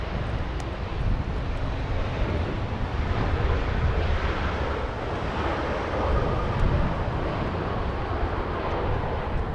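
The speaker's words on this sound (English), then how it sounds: "Alaska 589 flying in from Seattle, Washington. It's an A320." An Alaska Airlines A320 arriving at Los Angeles International Airport, a broad, steady jet roar that fills the scene, loud and unbroken, with wind rumble on the microphone and no talk.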